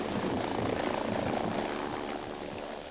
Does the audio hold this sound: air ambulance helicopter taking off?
yes